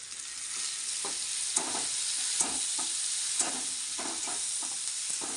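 Onion and tomato fry in a pan with a constant sizzle, broken by repeated spoon scrapes and stirring bursts at an irregular pace, close and moderately loud, with no talk.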